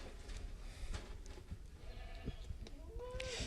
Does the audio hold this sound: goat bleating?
yes